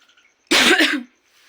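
A single close, harsh cough burst lasting about half a second, loud against a quiet background, with no talking.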